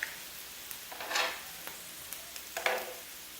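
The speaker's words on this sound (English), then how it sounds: "And this meat is cooking nicely." Lamb meat sizzling on a grill: a quiet steady hiss with two brief brighter bursts of crackle as the meat is moved, no talking.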